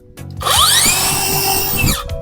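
Close, loud cordless 7-inch brushless circular saw (Tanzu TZ C 5050) whirring up to full speed with soft start, holding a high steady whine briefly before spinning down, no talking.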